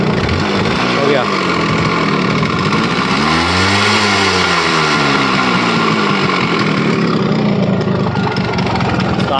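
A Yamaha RX100 motorcycle in worst condition, started after ten years, runs loud and close. Its engine rises and falls in pitch through a brief rev, with a voice speaking over it.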